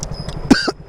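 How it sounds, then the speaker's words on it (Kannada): A single person coughs once, close and fairly loud, a short harsh burst followed by a quieter rasp, with no talking around it. "ಏನು ಕೆಮ್ಮು ಬಂದುಬಿಡ್ತೈತಪ್ಪ ಬೆಳಗ್ಗೆ."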